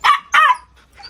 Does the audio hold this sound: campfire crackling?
no